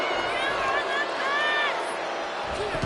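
Arena crowd in the wrestling video game WWE 2K25 roars steadily through the short moment, a dense wash of cheering and babble with whistles and shouts rising in the middle, with no clear voices on top.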